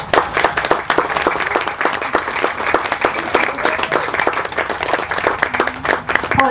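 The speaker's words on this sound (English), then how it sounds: "you can clap for whoever you think won" An audience at a Summerfest poetry reading bursts into loud applause, with many individual claps heard distinctly in a lively, uneven patter and brief faint voices near the end.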